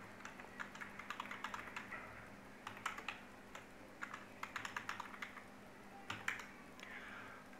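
A password being typed on a computer keyboard, quiet bursts of rapid key clicks with short pauses between them, close and alone.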